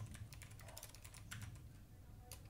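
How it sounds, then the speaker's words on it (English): Typing on a computer keyboard to enter text in a WordPress course builder, with quick, irregular keystrokes in a soft continuous patter, quiet and close with no speech. "let's type the title of the questions"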